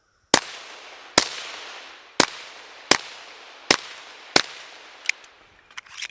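Suppressed shots from a Volquartsen Scorpion .22 WMR pistol fire outdoors at a steady, slightly uneven pace, six sharp cracks followed by a quicker pair, each with a short fading tail.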